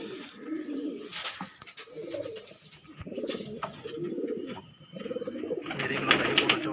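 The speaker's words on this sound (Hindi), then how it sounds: "ये हमारे बिल्लू उस्ताद जी के कबूतर हैं" Andhra-breed pigeons belonging to a pigeon keeper coo in repeated low, throaty bursts close by, with a few sharper bird sounds overlapping toward the end.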